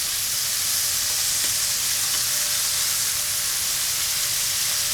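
Pork pieces searing in a single layer on the bottom of a Dutch oven make a loud, steady, dense sizzle and hiss with no breaks, heard up close and alone.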